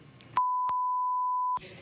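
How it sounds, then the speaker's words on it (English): A loud, steady sine-tone censor bleep on a daytime TV talk show lasts just over a second and cuts cleanly into a guest's speech, with voices heard briefly before and after. "what everybody at home just heard was beep, beep, beep"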